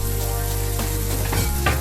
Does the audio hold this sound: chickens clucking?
no